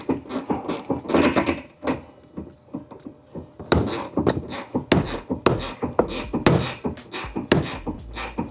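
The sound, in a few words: taking out bolt on Honda CR-Z rear shock absorber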